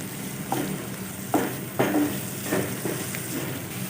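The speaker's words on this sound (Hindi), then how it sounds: "प्याज को हल्का सा फ्राई कर लेंगे।" Finely chopped onion frying in hot oil, a close and steady sizzle broken by several sharp scrapes of a spoon stirring in the pan.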